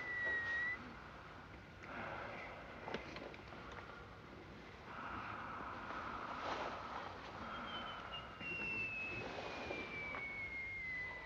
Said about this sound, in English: you were whistling in your sleep. You sound like a shell.